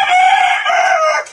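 A brooding hen sitting on her eggs in a coop gives one loud, drawn-out call lasting just over a second, close by and clear with nothing else around it.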